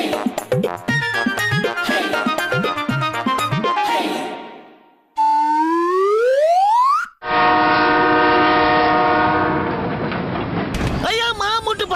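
In a Motu Patlu cartoon, a train rushes past with loud, layered effects: clattering rhythmic hits, a rising whistle sweep and a sustained horn-like blare, all dense and close in a busy soundtrack.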